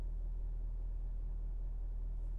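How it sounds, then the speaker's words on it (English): Low steady diesel rumble of a 2021 Chevrolet Silverado 2500 HD Custom with the Duramax engine, rolling slowly into a garage, a continuous close hum with no other sounds. "Just pulling into the garage here."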